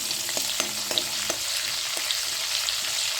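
Green chillies sautéing in hot oil for a gram-leaf vegetable dish give a steady close sizzle and crackle, with a few sharper pops and faint stirring clicks throughout.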